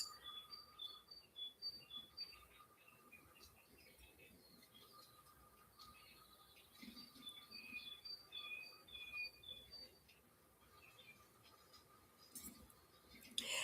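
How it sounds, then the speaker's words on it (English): Small birds chirp on a TV bird video in a room, bright rapid tweets and trills repeating throughout, faint under a steady low hum. "The birds are chirping."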